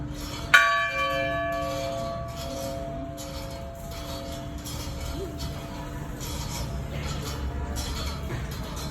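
A church bell at Tan Thanh Dong church in Cu Chi, Ho Chi Minh City, strikes once loudly and then rings out in a long, fading hum, with faint outdoor background noise and distant murmurs.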